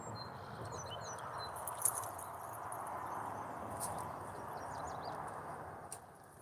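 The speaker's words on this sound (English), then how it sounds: "Birds making some rattling noises in the bushes" Small birds rattle and chirp faintly from the bushes beside a creek on a calm day, their brief calls scattered over a steady wash of outdoor ambience.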